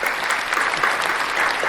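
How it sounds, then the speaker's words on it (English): An audience claps steadily and loudly throughout, a dense continuous applause for a hip hop artist being celebrated on a talk show, with no voices standing out. "Clap it up"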